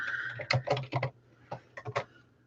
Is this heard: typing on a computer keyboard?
yes